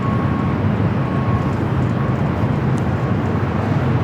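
A British Airways airliner at LAX airport, a loud continuous low jet roar that stays steady and near throughout, with no talking.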